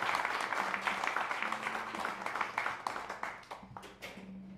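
At Caffe Lena, an intimate live-music room, the audience applauds the opening performer with moderate, crisp clapping that thins and fades toward the end.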